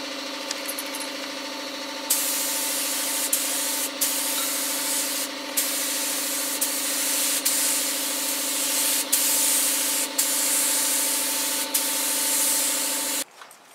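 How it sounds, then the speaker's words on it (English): A spray gun lays clear coat mixed with hardener onto a Toyota Corolla, hissing steadily for about eleven seconds over a compressor hum, with brief trigger pauses breaking the spray, close and loud. "then we're going to shoot some clear on this baby"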